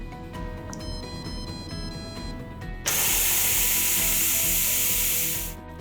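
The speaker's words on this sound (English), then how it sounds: "Now we'll hit cancel and manually release the pressure." Steam blasts out of a multi cooker's valve on manual pressure release after cooking eggs, a loud, close, steady hiss that starts abruptly after a few seconds of quiet humming and then cuts off.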